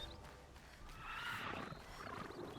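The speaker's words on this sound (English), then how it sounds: "Hello, mechanical horses." A mechanical horse in the game Horizon Zero Dawn lets out a metallic, noisy whinny that swells in the middle of the clip, fairly faint against game background sound.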